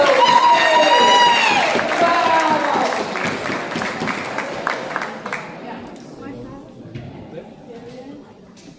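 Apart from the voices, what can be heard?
audience applause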